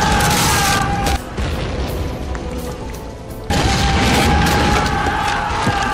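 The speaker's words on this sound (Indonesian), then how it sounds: "tiba-tiba ledakan terjadi dari arah kantor pemerintahan yang diserang para budak tadi" A loud, sustained roaring blast with dense crackling debris, easing briefly before surging again, heavy and close.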